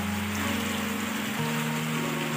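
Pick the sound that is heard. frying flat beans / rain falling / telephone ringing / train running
rain falling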